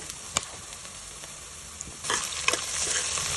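Onions fry in a pan for pulao, browning to golden with a soft continuous sizzle and a few sharp clicks of stirring, growing louder and busier in the last second or so.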